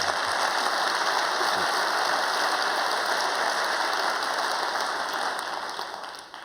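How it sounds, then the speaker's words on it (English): A large forum audience breaks into sustained applause for a speaker, a steady, even roar of many hands that fills the hall and eases away at the very end. "now you can applaud him"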